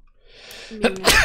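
A single sharp sneeze, close and loud, preceded by a brief inhaled build-up.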